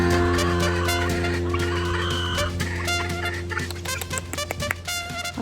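A turkey on a farm gobbles and clucks alongside chickens, close and loud, with repeated bursts of calls over a steady low hum.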